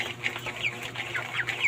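Several 26-day-old broiler chickens cluck and chatter in quick, irregular bursts close by, over a low steady hum.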